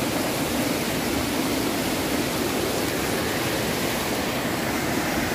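Rushing floodwater from a river suddenly swelling while catfish fishing, a steady broadband roar of churning water that fills the whole stretch without letting up, loud and close with no voices.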